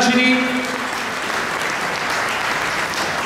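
Applause from the audience at an underwater photo awards evening, a steady wash of clapping that fills the whole stretch after a brief voice at the start.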